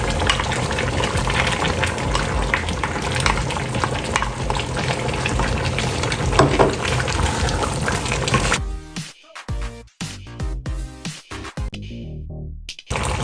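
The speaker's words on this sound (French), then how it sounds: "Je vais rajouter un tout petit peu d'eau et laisser cuire au moins 8 minutes" Water splashes into a hot pot of meat cooked with peppers and parsley, sending up a loud, steady sizzle and stirring noise that fills most of the moment before dropping to scattered quieter crackles.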